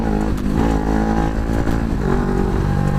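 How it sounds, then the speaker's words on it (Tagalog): A big bike, an NK400 or Tracer 900, revving hard up close in a rev bomb, loud continuous engine roar with rising and falling pitch throughout. "Wait lang, rev bomb muna tayo."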